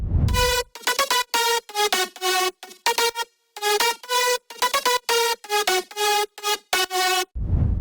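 A dry future house synth lead plays a bouncy melody of short, staccato notes in quick rhythmic phrases, steady in loudness, without reverb, vibrato or volume automation, with no voices.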